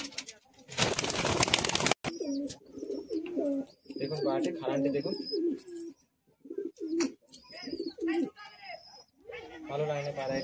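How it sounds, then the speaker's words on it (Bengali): Pigeons of a good breeding line coo in short bursts at a pigeon sale, under and between a man's close, loud talk, with a burst of noise at the start. "পায়রা, এটি আরো আরো অনেক পায়রা আছে দেখাচ্ছি আপনাদেরকে দেখুন"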